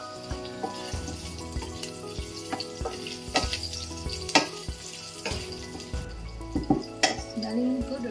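Ginger tossed into a tablespoon of hot oil sizzles and crackles up close, with scattered sharp clinks of utensils against the pan and a steady frying hiss underneath.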